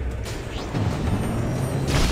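A spaceship explosion in the video game Freelancer rumbles as a sustained, loud, low roar, steady and swelling slightly over two seconds, with no talk over it.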